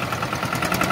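Tractor engine running, a short burst of steady, loud, rough mechanical drone with no voices.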